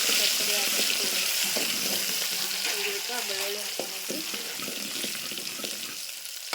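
Garlic fries in hot oil in a pan with a dense, steady sizzle that stays loud throughout, with occasional stirring clinks.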